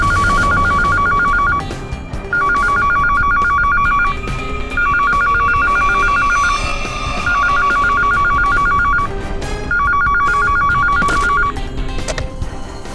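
A telephone rings in repeated trilling bursts, five rings with short gaps between them, loud and close over a low background hum.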